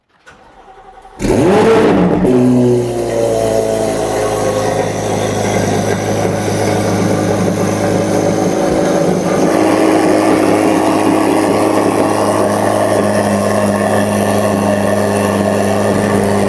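A C8 Corvette Z06 engine with Kooks headers fires up on a dyno, then holds a loud, steady, droning rev with a deep growl that sustains throughout.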